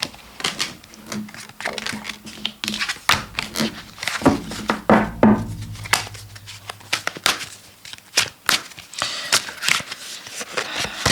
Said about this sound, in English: They're really hard to shuffle.